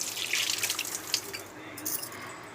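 Dishes being washed under a running kitchen tap, with faint splashing water and small clinks, quiet and close, without voices.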